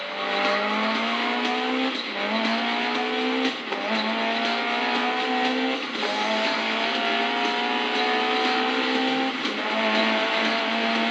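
In the Grid Legends racing game, a race car engine holds a loud, continuous high-revving whine, dropping briefly at each gear shift, with tire squeal heard along the way.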